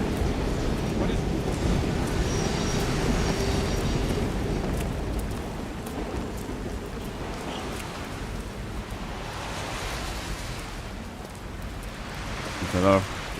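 Steady rain patters and hisses in the video game Resident Evil Requiem, a soft broadband wash heard behind someone talking, with a brief sharper sound near the end.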